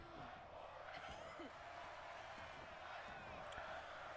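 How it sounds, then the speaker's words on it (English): Arena crowd in the wrestling video game WWE 2K24 roars and chants steadily for the wrestlers, a dense, continuous wash of many voices with a few louder whoops and thuds breaking through. "the crowd again asking to fight forever"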